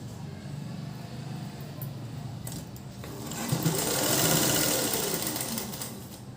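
A sewing machine stitches a tack seam on blouse fabric, running steadily throughout and speeding up louder midway, with no talking.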